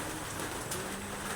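Steady rain falls in a rural province during heavy downpours, a dense continuous patter on surfaces, close and even throughout with no voices.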